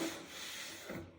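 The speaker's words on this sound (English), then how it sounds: "So I'm gonna go ahead and sand that off of there" Sandpaper rubs epoxy off the wooden lid of an arched pirate-style toy chest, a soft continuous scratchy rasp heard up close for about a second.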